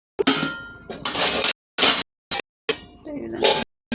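Steel bowls and a large steel plate clink and clatter in several short, bright bursts as they are taken out of a cardboard box, close by, with brief silent gaps between them.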